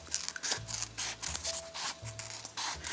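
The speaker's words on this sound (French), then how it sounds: "Je vais découper les plis." Scissors snip and rub through fabric folds stretched over a polystyrene ball set on a glass, in a run of close, repeated cuts with short pauses and no talking.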